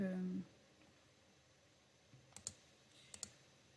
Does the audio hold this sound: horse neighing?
no